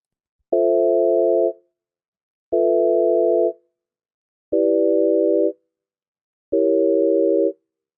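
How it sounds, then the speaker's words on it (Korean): Four evenly spaced chords built from pure sine waves, generated in Python, each sustaining about a second with silence between, clean, steady and electronic in tone. "유명한 코드 진행 중에 하나인데 이거를 이제 사인 웨이브로만 한번 재생을 해본 거죠."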